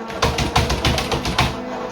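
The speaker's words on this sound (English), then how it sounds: "So if you hear me typing in here" Keys clatter in a steady rhythm of sharp taps at close range, a run of typing on a keyboard with no voices.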